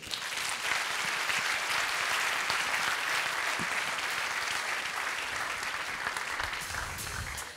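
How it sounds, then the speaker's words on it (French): Sustained applause from the audience at a Master's in Marketing graduation ceremony, dense and even clapping that holds steady and fills the room for several seconds before easing slightly. "Et sous vos applaudissements, s'il vous plaît."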